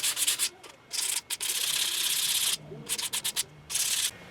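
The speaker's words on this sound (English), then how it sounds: "I'm probably going to sand more and more." Sandpaper rasps against a wooden fishing lure in close, loud strokes, some long and some short and rapid, with brief pauses between.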